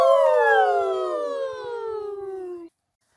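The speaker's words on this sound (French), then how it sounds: "on entend souvent sonner la sirène des pompiers" A fire engine siren sounds as a single loud, close wail that glides steadily downward in pitch for under three seconds, then cuts off abruptly to silence.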